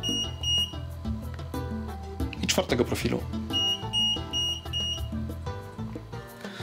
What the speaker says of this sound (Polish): Jest to sygnalizowane dwoma piknięciami trzeciego profilu